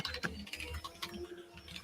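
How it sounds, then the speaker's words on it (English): Quiet typing on a computer keyboard in a basement room, a short run of soft irregular key clicks heard alone at low level. "it sounds like James is typing"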